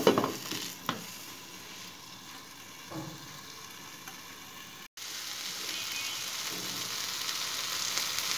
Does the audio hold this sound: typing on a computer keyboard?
no